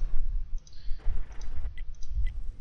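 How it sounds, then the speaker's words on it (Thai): A computer mouse double-clicks several times, the small sharp clicks coming in quick pairs over a steady low rumble of World of Tanks gameplay, with no talking. "เมาส์มันดับเบิ้ลคลิกนะครับ"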